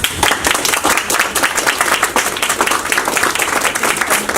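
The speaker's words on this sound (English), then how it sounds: "everyone wants to give you a huge round of applause" A high school audience gives a round of applause of steady, dense clapping that stays full and even throughout, close and loud.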